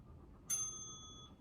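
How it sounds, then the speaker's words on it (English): A single bright ding of an exercise timer bell rings once, clear and close, then its tone fades out slowly over a quiet background. "When you hear the bell, you're gonna bring the hips down"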